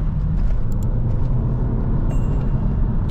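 Renault Sport Megane Cup 250 engine pulling hard in third gear, a steady dense rumble with road and wind noise throughout the short stretch, no talking.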